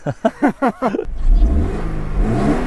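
Toyota GR86 revving through an aftermarket exhaust muffler, with several short sharp rev blips followed by a rumbling, sustained engine drone, heard loud and close.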